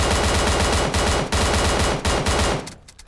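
Rapid loud shots from a QBU88 rifle in PUBG Mobile, fired at about 60 meters through a 3x scope, form a dense continuous volley that stops abruptly near the end, with no speech.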